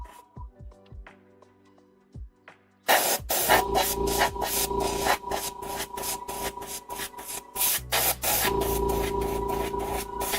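Gray spray paint hisses from a can onto a miniature tavern model in bursts, a broad steady spray following a quieter stretch of small clicks and taps, close and fairly loud.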